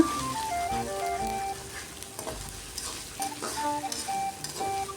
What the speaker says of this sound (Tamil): இஞ்சி பூண்டு பேஸ்ட்டு போட்டு நல்லா வதங்கிடுச்சு ஒரு வாட்டி வதக்கி விட்டுக்கலாம்